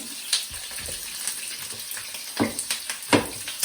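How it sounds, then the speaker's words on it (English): Onions crackle and sizzle in a pan close by, with a steady frying hiss broken by irregular pops and stirring clatter. "put in the onion first because that gives flavour. So you can hear it sizzle"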